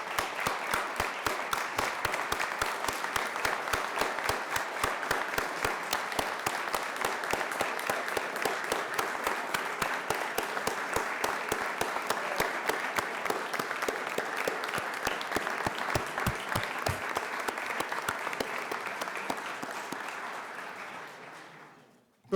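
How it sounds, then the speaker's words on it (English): Sustained applause from a large crowd at the Wyoming State of the State address, steady and loud for a long stretch before quickly fading out at the end. "I ask all guests here to join me in applauding our state legislature."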